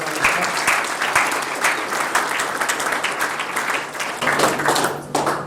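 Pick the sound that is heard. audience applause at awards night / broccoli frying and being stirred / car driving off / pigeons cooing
audience applause at awards night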